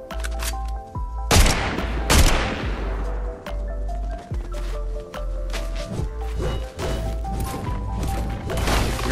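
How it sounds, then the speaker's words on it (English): Gunfire in Fortnite, a few loud nearby shots and impacts scattered over a busy game soundscape with musical tones and effects. "someone shooting up there?"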